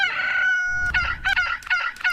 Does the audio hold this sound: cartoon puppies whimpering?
no